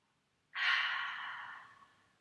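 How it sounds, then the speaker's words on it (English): A single slow, deep breath during a slow-flow yoga session, exhaled close to the microphone after a short silence and tapering off gradually. "One more good breath."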